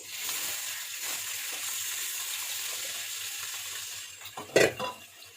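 Washed beef goes into a hot pan with sliced ginger for an Ethiopian-style beef curry, giving a steady sizzling hiss. A sharp clatter of food or a utensil against the pan sounds near the end.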